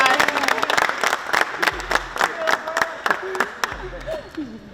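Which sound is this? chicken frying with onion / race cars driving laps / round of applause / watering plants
round of applause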